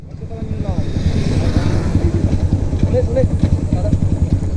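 Barako 175 motorcycle engine running steadily at a low idle, close and fairly loud, with a rhythmic thumping pulse and faint background noise.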